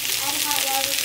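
Asparagus cooking in a hot pan gives off a steady, close hiss of sizzling throughout, while a voice talks quietly over it.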